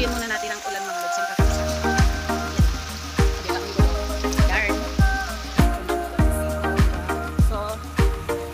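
Rain falls steadily, with a regular pattern of heavy drops thudding on a resonant surface roughly every half second over a continuous wash of lighter patter, close and fairly loud.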